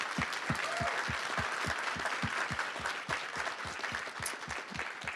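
An audience at a school board meeting applauds a teacher and his students, giving a steady crowd ovation with one nearby pair of hands clapping in a sharp, even rhythm above the rest.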